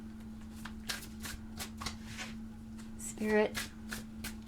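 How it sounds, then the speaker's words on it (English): Tarot cards shuffled by hand in a steady run of soft riffling bursts, close and fairly quiet, with a low steady hum beneath and a single word spoken partway through. "I'm going to go ahead and pull some cards."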